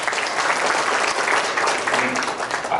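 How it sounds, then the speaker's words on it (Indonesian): A church congregation at an Easter service claps together, a dense, steady burst of applause filling the room for a few seconds. "Boleh tepuk tangan buat Tuhan Yesus."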